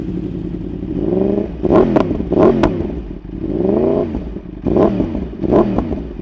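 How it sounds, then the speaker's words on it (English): A Yamaha R1 sportbike with a full GP exhaust and no catalytic converter revs in repeated bursts, a deep, throaty low-end rumble rising and falling in pitch several times, loud and close, with no talking. "What I love most about this exhaust is just the low end rumble that it has."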